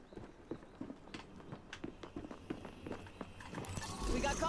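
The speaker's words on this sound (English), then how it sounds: "I hear footsteps, not sure if it's my guys." Rapid, rhythmic footsteps in the Apex Legends battle royale shooter on Xbox Series S, a steady run of close thuds mixed with game noise, with a louder burst of action near the end.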